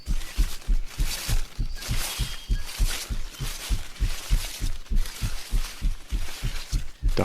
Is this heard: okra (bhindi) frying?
no